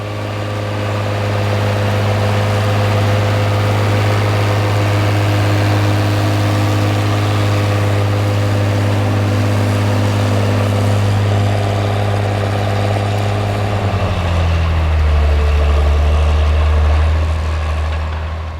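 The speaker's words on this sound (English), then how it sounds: "1594 pulling a 5-furrow Dowdeswell DP8B" A Case IH 1594 Hydra-Shift six-cylinder tractor pulls a five-furrow Dowdeswell DP8B plough in seventh gear across a gravelly field, its engine a loud, steady drone that shifts lower in pitch near the end, with no talking.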